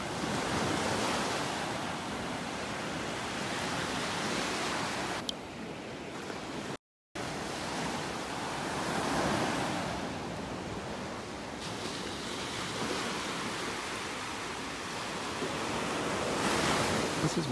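Ocean waves wash onto a beach in North Naples, Florida, a continuous rushing surf that swells and recedes in broad surges, with wind buffeting the microphone and a brief dropout partway through.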